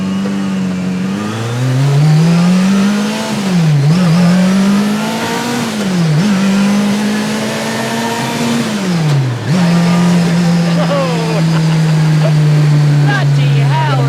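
Street-legal Group B Lancia Delta S4, turbocharged and supercharged, revs hard from inside the cabin, its engine note climbing and dropping sharply through several gear changes across the run, loud and sustained, with occupants talking over it.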